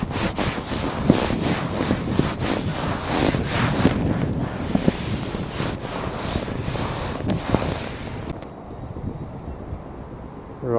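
Wind blowing outdoors on a boat, loud gusting rushes and microphone buffeting with scattered knocks and rattles that ease to a quieter hiss near the end.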